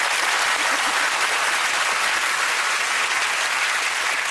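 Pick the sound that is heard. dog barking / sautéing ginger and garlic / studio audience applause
studio audience applause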